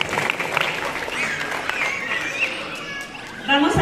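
Audience applause at a San Mateo queen pageant, a steady wash of clapping from the crowd with voices and chatter mixed in throughout, swelling slightly near the end.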